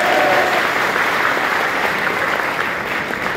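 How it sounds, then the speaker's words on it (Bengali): Loud, sustained applause from a crowd at a Bangladeshi political meeting, with dense clapping running steadily throughout without pause and no voices rising above it. "তাদের উপস্থিতি দেখে অনেক জোরে একটা হাততালি দাও।"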